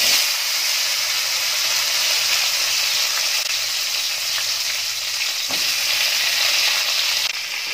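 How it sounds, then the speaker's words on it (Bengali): Radhuni seeds tempering in hot oil before bitter gourd and potato go in, a loud, dense and unbroken frying hiss close by, with one soft knock near the end and no talking. "এতে দেখো তেল বসিয়ে নিয়েছি, তেলটা বেশ ভালো করে গরম হয়ে গেছে। এবার এর মধ্যে দিয়ে দিলাম একটু রাঁধুনি"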